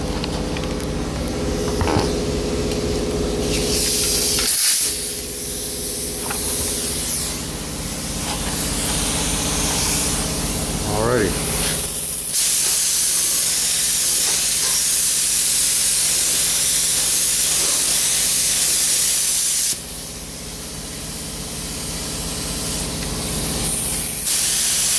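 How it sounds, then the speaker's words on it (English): A paint spray gun laying down 2K primer on a car, giving a loud, continuous hiss with a few short pauses and shifts in intensity as the passes change. "had some people asking about how to spray primer, so I'm gonna go ahead and lay some down on this."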